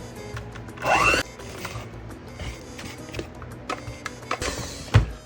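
Electric mixer blending chocolate into a no-bake chocolate pie filling, a steady low whir with a louder burst near the start and scattered knocks against the bowl.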